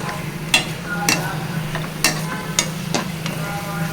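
Fried bitter gourd slices scooped from a pan onto a plate for Telangana-style karela fry, with a low background sizzle and sharp intermittent clinks of a metal spatula against the pan and plate.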